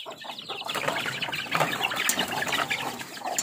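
Chickens and chicks in a poultry coop cluck and peep close by, with soft wing flapping and rustling among the birds, no voices over them.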